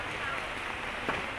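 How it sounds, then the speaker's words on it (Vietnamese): Steady rain falls at the Bac Ha night market, a dense continuous hiss of drops on surfaces, loud and close throughout. "trời mưa lắm"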